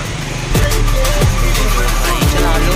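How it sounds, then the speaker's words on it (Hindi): A modified motorcycle engine runs loud and close during a ride, a steady drone with pitch that swells and drops through several shifts. "तुम देख ही सकते हो कि बाइक जो है कैसे भाग रही है"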